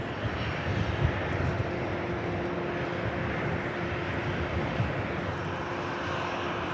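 An Alaska Airlines airplane rolls for takeoff at Dallas Love Field, its jet engines producing a steady, broad roar heard from a distance with no talk over it.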